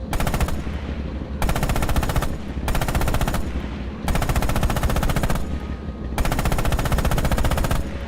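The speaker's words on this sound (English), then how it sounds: "Use the hull MG and open fire on the targets." A tank's hull machine gun in Red Orchestra 2 rattles out four long, loud bursts of rapid automatic fire, each lasting over a second with brief gaps between them.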